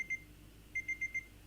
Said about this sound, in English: a familiar alarm sounded in the distance